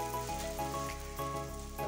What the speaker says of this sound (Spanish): ahora vamos a freír el pan, las rebanadas de pan